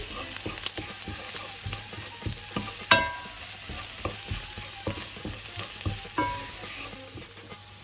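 Garlic and ginger paste sizzling in a pan with browned onion for red lentil dahl, a steady close crackle and hiss broken by repeated scraping and clinks of a stirring spoon.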